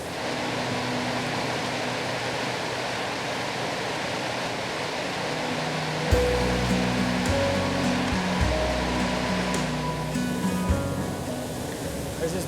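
River rapids rush around rocks in Eldorado National Forest, a broad constant hiss of flowing water; partway through, low tonal hums and faint knocks join in over the steady roar.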